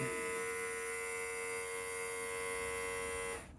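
An electric vacuum pump, fitted to pressurize a car's brake booster on an engine with low manifold vacuum, hums with a steady, close electric drone that holds for a few seconds and then cuts off.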